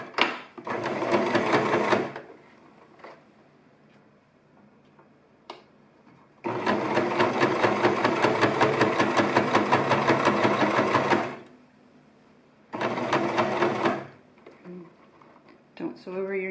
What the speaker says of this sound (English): And then just kind of try to sew over the other stitching and just keep it nice and neat.